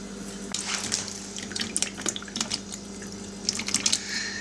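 Hawthorn berries, drained after soaking overnight in slaked lime, go into a generous amount of water for making jam. Water splashes and drips near and steady, with scattered clinks and trickles and no talk.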